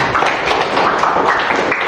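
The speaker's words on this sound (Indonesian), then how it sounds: "Tepuk tangan." A classroom of students claps during a practice-teaching lesson, a loud, close, continuous patter of many hands that fills the whole moment with no pauses.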